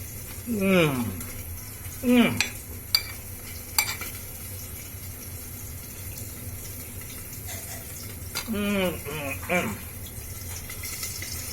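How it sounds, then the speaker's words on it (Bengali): Fish frying in a pan gives a steady background sizzle throughout, with a voice speaking in a few short bursts over it. "এইটাতে কয়েকটা মাছ ভাজি হচ্ছে"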